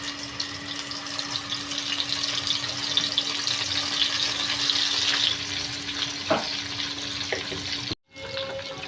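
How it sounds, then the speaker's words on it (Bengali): Tengra fish frying in hot oil in a pan, giving a steady, close sizzle with a faint ongoing hum, a couple of brief clinks near the end, and a sharp drop in the sound shortly before it ends. "তেল গরম হয়ে গেলে এর ভিতরে মাছ দিয়ে দেব।"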